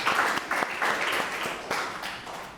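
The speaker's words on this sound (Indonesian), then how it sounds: "tepuk tangan dulu untuk Pak Ujan" An audience at a university teaching session bursts into applause, a dense wash of many hands clapping at once that holds steady for a couple of seconds, then thins and fades.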